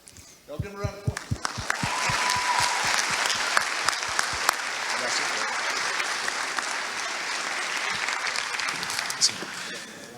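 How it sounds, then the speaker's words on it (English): A conference audience bursts into sustained applause, starting with a few scattered claps and swelling into dense, steady clapping from a large crowd, with faint voices mixed in. "Give him a round of applause."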